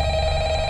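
A telephone rings in Five Nights at Freddy's, a brief loud electronic trill holding a steady tone with no voices over it.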